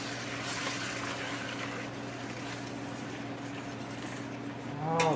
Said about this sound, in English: we're going to add our tomatoes. Release some of those juices. Deglaze the bottom of our pan